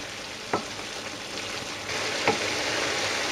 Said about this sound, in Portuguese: Vamos misturando assim com a colher de pau